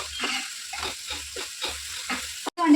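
Brinjal and tomato sizzle and get stirred in a pan, making a steady crackling fry with rhythmic stirring scrapes, close up and with no talk, before a brief cut and a louder splatter at the end.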